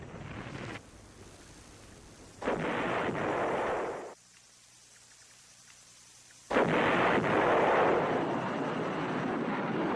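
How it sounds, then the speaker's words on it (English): Artillery fire and bombing during Vietnam War fighting near Prek Lok come as loud, roaring bursts of rumbling blast noise, two long surges separated by quieter gaps. "Furious American bombing and artillery fire drove off the assaults."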